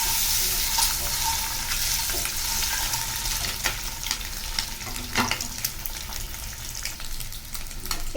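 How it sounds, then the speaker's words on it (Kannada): Frying for egg curry in a pan, giving a continuous broad sizzle with scraping and stirring clicks scattered through it. The sound stays close and fairly loud, with no talking over it. "ಸ್ವಲ್ಪ ಕಲರ್ ಬರುವಷ್ಟಕ್ಕೆ ಫ್ರೈ ಮಾಡ್ಕೊಳ್ಬೇಕು"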